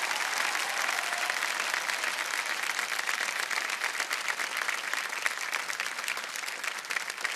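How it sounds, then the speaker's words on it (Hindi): A studio audience on the Indian quiz show Kaun Banega Crorepati bursts into loud, dense applause after a contestant wins 3,20,000 rupees, sustained and even for the whole stretch with no talk over it. "जोरदार तालियां बज जाए इनके लिए।"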